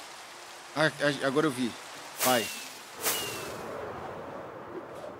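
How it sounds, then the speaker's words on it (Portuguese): Steady hiss of rain falling in Minecraft along with fog, heard beneath someone speaking Portuguese and several short in-game sound effects. "Essa neblina aqui, essa chuva"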